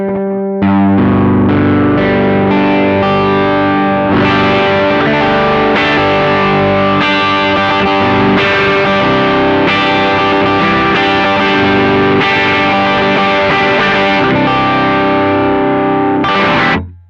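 Electric guitar through a BOSS OD-3 overdrive pedal, played on a 335-style guitar, gives a thick, warm distorted tone. Sustained chords ring loud and steady for about sixteen seconds, then fade out, with no talking.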